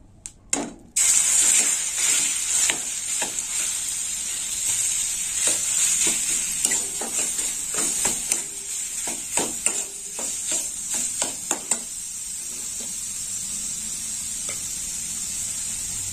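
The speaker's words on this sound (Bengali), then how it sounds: "এবার আমি গাজরটা এর মধ্যে ভেজে নেব।" Grated carrot fries in a pan of oil for carrot malpoa. After a brief sharp start comes a loud, close, continuous sizzle, broken by scraping stir strokes that thin out as the hiss settles.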